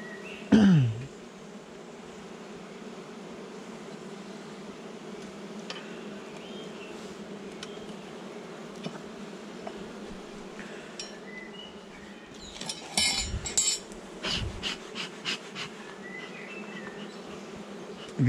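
Honey bees buzz around an open hive during a spring colony inspection to remove swarm cells, a dense continuous drone with individual insects flying close past the microphone and occasional brief bird chirps.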